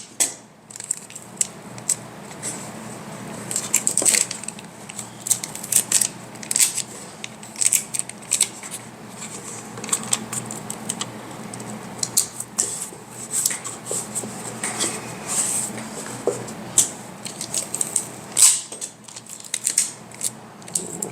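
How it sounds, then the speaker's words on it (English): Adhesive tape pulled off a roll and pressed onto a wood miter joint during glue-up with dowels, giving repeated crackling strips and short rips spread over about twenty seconds, fairly close and moderately loud with no talking. "Get some tape that glues together."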